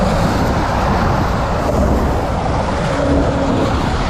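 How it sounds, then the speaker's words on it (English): Steady roar of truck traffic passing on the upper deck of the George Washington Bridge, a continuous loud rumble with no breaks and no voices. "So this level has got all the truck traffic."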